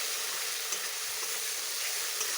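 Potatoes fry in a pan, a dense, even sizzle lasting a couple of seconds, close and fairly loud, with faint stirring underneath and no speech.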